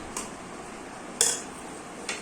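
Cooked rice is served onto plates for a Sunday family lunch, heard as three sharp clinks of utensil against dish spread out over a quiet background.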